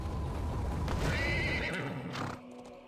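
A horse in the fantasy game AdventureQuest 3D gives one loud, close, quavering whinny over clip-clopping hooves, which then trail off.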